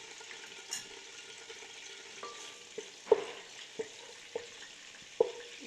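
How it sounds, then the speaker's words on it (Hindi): Garlic paste fries in a pan for a kebab masala, a soft steady sizzle broken by several sharp scrapes and knocks as a spoon stirs it, close and fairly quiet. "इसको आपने हल्का सा फ्राई कर लेना है अच्छी तरह से।"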